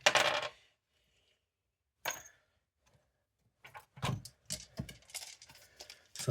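Dice for a tabletop wargame clatter and rattle in several bursts of sharp knocks, close and fairly quiet, separated by silent pauses.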